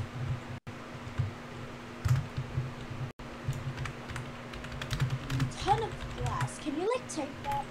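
Computer keyboard typing during a Minecraft survival session, steady runs of quick clicks under ongoing talk and game sounds.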